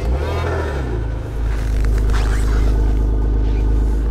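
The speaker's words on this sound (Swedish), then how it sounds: "Ska vi se här om bilen går igång." A car engine cranks and catches on a freezing morning at minus 23 degrees, then settles into a loud, steady low rumble that holds close and continuous.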